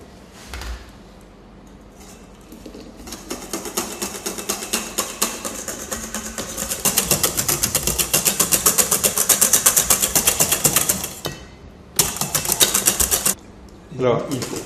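A strawberry sabayon of egg yolks with orange juice and raspberry cream is whisked briskly in a bowl, a fast steady metallic rhythm that builds and then stops and restarts, with a voice talking over it at times.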